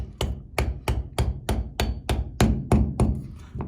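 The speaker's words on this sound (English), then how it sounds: "I'm gonna hammer that in." Eleven sharp hammer blows land in a steady rhythm, close and loud, each a hard knock driving plastic guard pieces together, with no talking.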